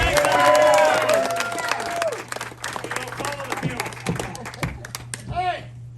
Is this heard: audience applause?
yes